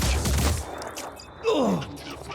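Enemy gunfire in the tactical video game Phoenix Point, a burst of several shots at the start followed by a thud and a descending whooshing effect, with no talk over it.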